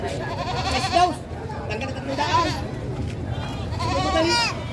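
Goats bleat repeatedly at a livestock market in Padre Garcia, Batangas, several wavering calls close by over a constant crowd murmur, with people talking throughout.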